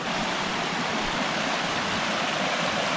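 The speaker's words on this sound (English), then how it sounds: "this looks like it might be a waterfall" Waterfall in a river area heard as a steady, dense rush of falling water, even and continuous at moderate distance, with no talk.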